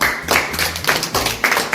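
Hands clap in several quick bursts of applause during a spoken quiz about days of the week, close and fairly loud, with no talk over it.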